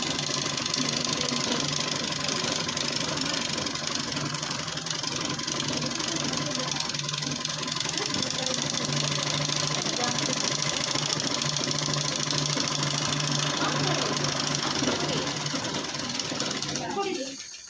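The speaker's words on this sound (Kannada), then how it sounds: "ಈ ರೀತಿ ತುದಿಗೆ ಫುಲ್ಲು ಸ್ಟಿಚ್ ಮಾಡ್ಕೊಬೇಕು." A sewing machine stitching piping fabric for a blouse runs continuously with a steady mechanical whir and rapid needle chatter, close and fairly loud, stopping near the end; speech is heard over it.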